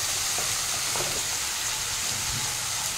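Onion sautéing in a pan with salt, turmeric, sugar and chili powder, giving a steady broadband sizzle with faint stirring scrapes throughout.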